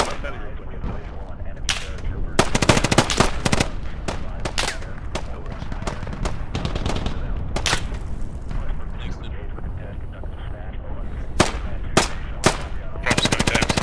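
A player's automatic gunfire in the military shooter Squad, loud close bursts repeating through the clip with short pauses between them.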